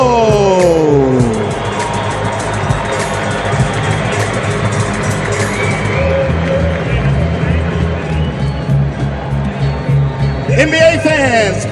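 Large arena crowd at the NBA Africa Game, Team World versus Team Africa, roaring and cheering continuously for MVP Victor Oladipo, with dense crowd noise and an announcer's voice over it.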